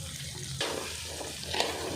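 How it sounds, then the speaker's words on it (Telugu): Onions frying in oil in a kadai for egg curry, a steady close sizzle with brief stirring scrapes partway through, no voices. "మంచిగా ఆయిల్లో ఫ్రై చేసుకోవాలి."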